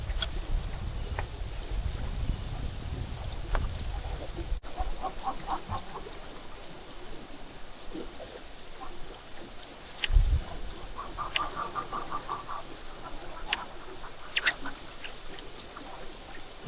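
Bird calls outdoors in the open, a few scattered chirps and short clucking bursts at moderate distance over a steady high hiss of insects or ambient noise.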